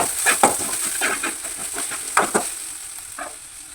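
Turmeric and spices frying in a pan for chicken curry give a continuous sizzling hiss. Several sharp stirring scrapes come close and fairly loud, with no talking.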